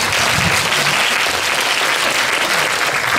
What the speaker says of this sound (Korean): 두분 선택해 주셔서 감사하다는 박수처럼 드리겠습니다.